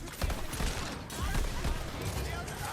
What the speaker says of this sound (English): But it feels just like a normal Hyperion shotgun